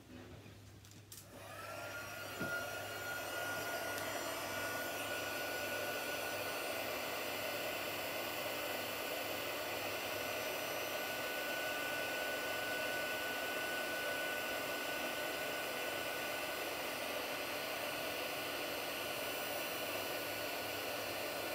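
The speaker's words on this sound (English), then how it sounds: "Let's grab my heat tool." A heat embossing tool starts up and blows hot air for gold embossing, a steady loud whirring hiss that runs continuously after a brief click.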